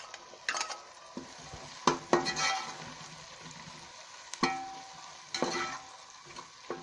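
Chicken pieces fry in a pan for a pasta dish, with a soft sizzle underneath and intermittent sharp scrapes and clinks of a spatula stirring against the pan, fairly close and unaccompanied by talk.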